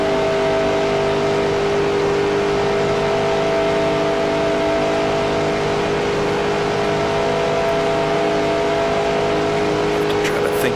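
A stock car engine drones at high revs in NASCAR Racing 2003 on Daytona's oval, a loud, unbroken whine with strong steady harmonics as the throttle eases slightly, while a voice talks over it.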